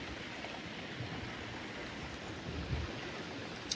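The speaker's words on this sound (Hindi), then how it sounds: "देखा कितना पानी गिरा" Heavy rain pours steadily outdoors in a rural village, a dense, even hiss with no gaps and no voices.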